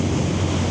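Strong wind buffets the microphone outdoors, a dense, continuous low rumble and roar filling the whole short moment with no pauses and no voices.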